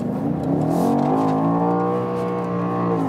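A BMW X6 M Competition engine revs up hard and climbs steadily in pitch as it accelerates out of a corner in manual shifting mode, loud and close, with no talking.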